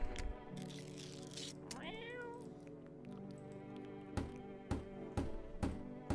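A cat meows in a horror video game, a rising wavering cry near the middle over a steady droning music bed, followed by several sharp bursts of sound, with no talking.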